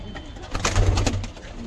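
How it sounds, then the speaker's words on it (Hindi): Pigeons, including black and patterned fancy breeds, cooing in low, throaty repeated calls close by, with faint background noise. "और देखिए भाई लाजवाब कबूतर है"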